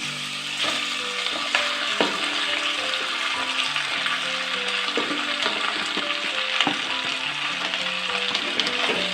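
Meat for tas kebab sizzles and fries steadily in a hot pan, with a dense crackling hiss throughout and occasional knocks and scrapes of stirring against the pan.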